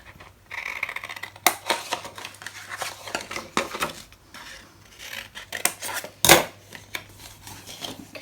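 Scissors snipping through packing tape on paper, a series of irregular close crisp cuts and rustles, with one sharper snip near the end.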